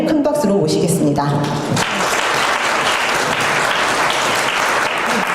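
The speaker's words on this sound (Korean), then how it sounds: "교육과정부 이정희 부장님을 큰 박수로 모시겠습니다." Loud, sustained applause from an audience welcoming the head of the curriculum department at a high school admissions briefing, beginning under a spoken introduction and then filling the room steadily.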